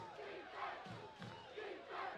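Football crowd at Rocky Marciano Stadium during a Brockton High School game against St. John's, roaring and cheering in loud swelling waves that rise and fall across the stands.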